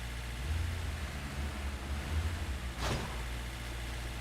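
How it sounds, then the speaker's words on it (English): A truck's engine runs steadily in the SnowRunner video game, a low continuous drone that stays fairly constant, with a brief whooshing burst near the end. "The only thing I don't like about this truck is the freaking blasted engine noise."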